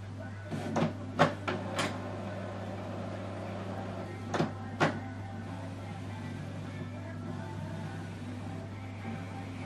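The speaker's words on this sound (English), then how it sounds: "what it's doing now is preparing the printer." An Epson XP-3200 inkjet printer hums steadily while a handful of brief mechanical clicks and clunks sound in small clusters as it whirs through its initial start-up after ink installation.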